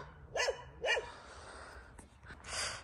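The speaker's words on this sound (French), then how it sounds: "C'est la chienne des voisins. Elle fait caboyer là depuis un quart d'heure." The neighbours' female dog barks outdoors, two sharp barks close together near the start followed by quieter scattered sounds, somewhat distant over a steady background murmur.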